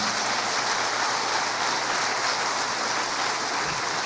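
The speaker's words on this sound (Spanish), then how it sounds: "Denle un aplauso al Señor." A continuous dense wash of applause from a church congregation, steady and fairly loud throughout, like a crowd clapping together with no voices standing out.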